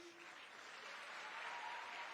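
A crowd at a political rally with Ruto and Riggy G in Kiharu breaks into sustained, even applause, a dense wash of clapping heard from a distance and fairly faint.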